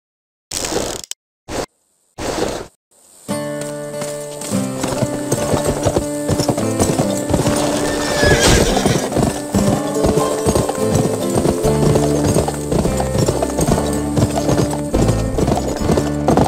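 Horse hooves clip-clopping at a steady gallop in the Western video game Gun, after a few short bursts of sound at the start, with an occasional neigh and a busy game soundscape layered beneath.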